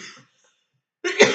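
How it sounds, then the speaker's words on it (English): A sick woman coughs and clears her throat, a short husky burst at the start, a second of silence, then a louder, rough hacking cough close to the microphone. "I've been like hawking and coughing because I'm sick."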